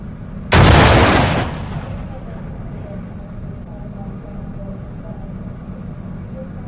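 A single loud, booming gunshot blast from the Quantum of Solace video game, close and sharp, with a long decaying tail and a low background rumble behind it.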